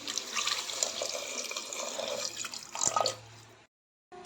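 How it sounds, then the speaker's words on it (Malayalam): Water pours and splashes into a pot for a few seconds, a close, steady rushing that swells briefly before stopping. "ഇതിലേക്ക് വെള്ളം ചേർക്കാം"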